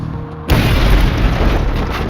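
A bomb detonates with a sudden, ferocious boom that hits at once and then rolls on as a loud, dense rumble, with no one speaking.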